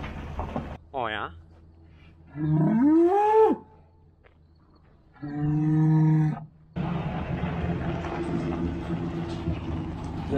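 Cattle being worked in a portable corral moo several times, close and loud, with long drawn-out calls separated by pauses, over a steady outdoor engine-like hum.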